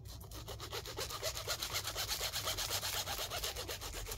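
A small hand saw rasps back and forth through plant roots in a quick, steady rhythm, each stroke grinding through wood close by.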